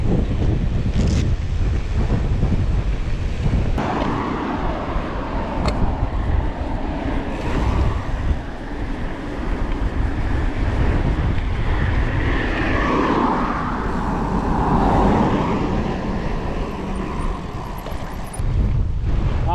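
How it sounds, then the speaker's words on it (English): Strong wind roars and buffets the microphone continuously on Derwent Edge before rain, with gusty low rumbling swells and no voices. "Wind is fierce, really fierce."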